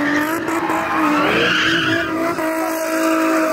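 Tires squeal and skid continuously as a car does donuts, a loud, wavering screech over engine roar, close and alone, with no voices.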